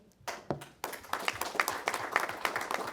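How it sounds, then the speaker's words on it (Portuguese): Audience applause at a formal dinner ceremony marking the 80th anniversary of the PTB political party, honoring Silvana Melk; a few scattered claps swell into steady, moderately loud clapping from a crowd. "Eu queria uma salva de palmas para Silvana Melk"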